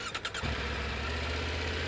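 A Triumph Tiger 900 Rally Pro motorcycle cranks with a few quick starter pulses, then catches and settles into a steady, close low idle.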